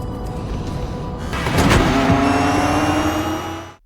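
A race car engine in a Ford v Ferrari film scene revs hard past 7000 rpm, a loud, close, rising engine roar with a climbing whine that swells midway, then cuts off abruptly.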